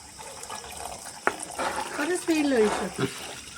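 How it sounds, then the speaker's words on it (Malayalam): Heated water is poured from a vessel into a pot of Kumarakom-style fish head curry, a short gurgling splash rising in the middle of the clip while people talk over it. "ബാക്കി വെള്ളം കൂടി ഒഴിക്കേ ഓക്കെ നമ്മൾ വെള്ളം ചൂടാക്കി വെച്ചിട്ടുണ്ടായിരുന്നു അത് ആഡ് ചെയ്ത് കൊടുക്കുന്നത്"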